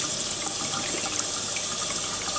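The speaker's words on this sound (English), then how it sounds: "This is how we clean up the fish and wash it up" Tap water runs steadily over a cleaned snapper fish in a sink, a continuous close hiss and splash with no talk.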